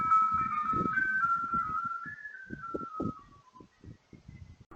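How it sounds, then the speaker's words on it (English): An ice cream truck jingle plays at night in winter, a thin electronic melody stepping gradually downward over muffled thumps and rumble, clear at first and then fading. "A Reddit user caught an ice cream truck driving around at 11 p.m."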